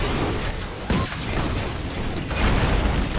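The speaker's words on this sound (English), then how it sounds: "We are going to take the grav bomb, throw that out." Gazlowe's grav bomb thrown in Heroes of the Storm, heard as a dense mechanical whirring and clanking burst with sharp pops, thick with game noise throughout.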